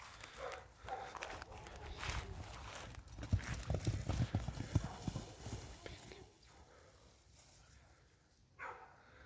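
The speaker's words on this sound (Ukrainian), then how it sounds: "Стоять коні нічого не роблять." Draft horse hooves clip-clop in a steady, uneven walking rhythm at moderate distance, with outdoor background noise and occasional murmurs.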